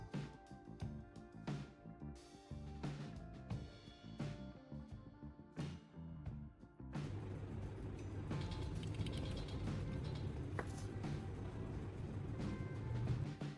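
A nut is tightened onto a bolt at an awkward angle, with a run of faint ratcheting clicks and metallic creaks that settle into a steadier grinding mechanical sound, close and quiet.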